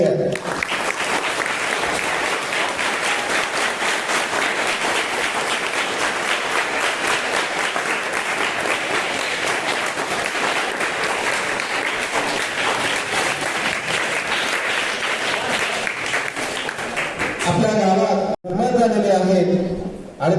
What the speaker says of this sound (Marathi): विद्यार्थ्यांना सांगेन जोरदार एकदा टाळ्या होऊ